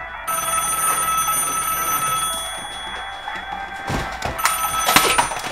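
A telephone rings in a scene from a Russian comedy sports film, giving a steady, bright, continuous ring for several seconds, with some louder clatter toward the end.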